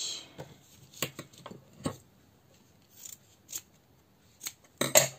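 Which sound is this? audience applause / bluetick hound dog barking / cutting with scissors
cutting with scissors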